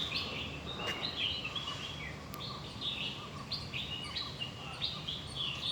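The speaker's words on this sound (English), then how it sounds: "Every bird song is very pleasant and soothing." Birds singing in the tropical garden of the Taj West End hotel, several chirps and short melodic phrases repeating from moderate distance over a soft, steady background hum.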